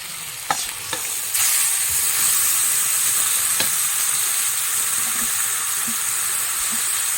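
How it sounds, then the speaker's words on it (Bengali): Greens dropped into a hot pan over fried onion burst into loud, steady sizzling after a few clinks, holding a constant hiss with occasional stirring scrapes. "কপির শাকটা দিয়ে দেবো এবার"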